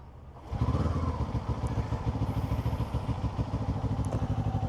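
Kawasaki Ninja 7 Hybrid motorcycle engine starts up after a quiet moment and runs steadily with a low, pulsing throb, close and continuous, no talking over it.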